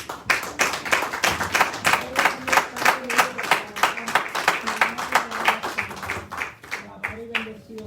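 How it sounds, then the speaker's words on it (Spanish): A church congregation claps along in steady rhythm, regular beats of many hands filling the space, with a voice singing or speaking over the clapping throughout. "Denle un aplauso a su rey."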